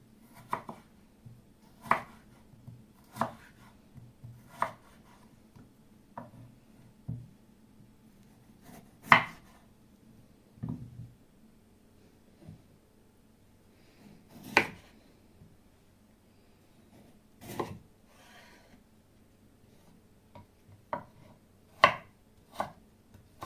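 A knife chops potatoes into fries on a cutting board in irregular, crisp thuds and knocks, some sharper than others, close up with brief gaps between strokes and no talking.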